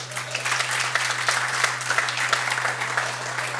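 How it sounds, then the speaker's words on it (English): A crowd gives steady, sustained applause at a talk, dense clapping throughout with a low constant hum underneath, moderately loud and without speech. "applause."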